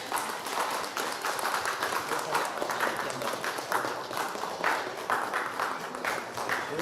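A church congregation at a Christmas gift-sharing gathering claps steadily and densely throughout, a continuous wash of many hands with no pauses.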